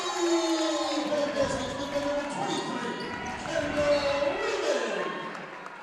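A crowd at a high school basketball game, Resurrection versus Regina Dominican, cheers and applauds in a standing ovation. The roar is loud and sustained, and a voice talks over it.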